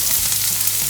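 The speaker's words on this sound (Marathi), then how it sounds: "छान परतून घेऊया" Onion and ginger sizzle steadily in hot oil in a pan while being sautéed for baingan bharta, a constant close frying hiss with no talk.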